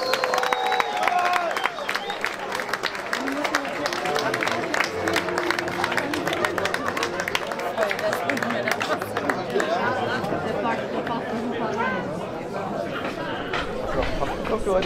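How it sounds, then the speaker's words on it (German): An outdoor crowd at a maypole raising in Bonn-Lengsdorf in 2024 claps and cheers, mixed with continuous loud chatter and voices across the whole stretch. "Applaus!"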